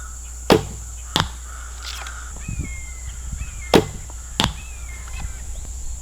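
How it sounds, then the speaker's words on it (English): Crows cawing at a distance during arrow trajectory shooting outdoors, a few faint calls drawn out under a steady background hum, punctuated by several sharp, loud arrow impacts. "All the crows in the background make me so excited for deer season."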